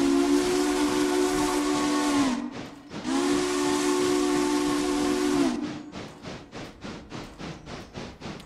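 Steam-style train whistle in a railroad video game, two long loud hissing blasts with a brief gap between them, followed by rhythmic chuffing of the locomotive, with no voices.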